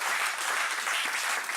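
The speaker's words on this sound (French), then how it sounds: "Faut acclamer Jésus si tu es content." A church congregation at a thanksgiving service applauds in a dense, continuous wash of clapping that holds steady and fairly loud throughout.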